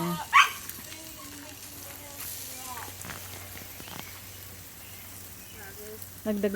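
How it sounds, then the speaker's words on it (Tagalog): A dog gives a sharp bark at the start and again near the end, over a steady background hum and faint barbecue sizzling, with a little talk. "At hindi ko alam kung anong tinatahol-tahol ni Cookie."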